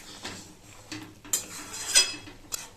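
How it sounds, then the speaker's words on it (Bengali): Soybean dal stirred in a metal kadai, a spoon scraping and clinking against the pan in irregular strokes, close and moderately quiet. "এবার সব কিছু মিশিয়ে দিয়ে এভাবে একটু নেড়ে নেড়ে দিতে হবে, যাতে নিচে ডালটা না লেগে যায় কড়ার।"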